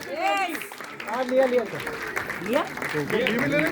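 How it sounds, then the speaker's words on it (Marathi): Audience applause at a live film premiere event in Pune, loud and steady throughout, mixed with shouting and cheering voices from the crowd. "आणि टाळ्यांचा आवाज जरा जोरात आला पाहिजे."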